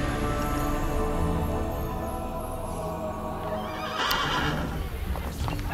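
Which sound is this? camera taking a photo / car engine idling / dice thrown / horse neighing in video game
horse neighing in video game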